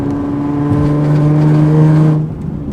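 A car with a twin-turbo VQ35HR engine holds a loud, steady droning rev close by, then the engine note drops away abruptly near the end.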